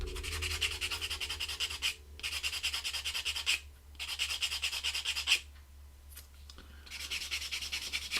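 A plastic model kit part is sanded by hand in close, quiet rubbing strokes, arriving in several bursts separated by short pauses.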